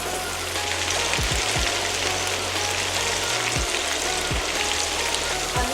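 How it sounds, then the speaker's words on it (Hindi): Potatoes shallow fry in oil for a chicken pulao, a dense, continuous sizzle and crackle filling the pan steadily throughout, close and fairly loud. "अब इसी तरह हम आलू को भी शैलो फ्राई कर देते हैं"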